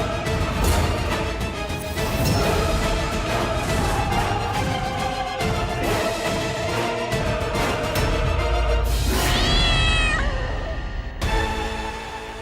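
A cat gives a loud, drawn-out meow near the end of a dramatic television scene, rising over continuous loud background music and sound effects.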